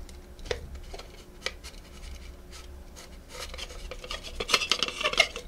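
An N gauge model railway point is wiggled onto a baseboard, giving faint small plastic clicks, taps and scrapes that grow busier and louder toward the end.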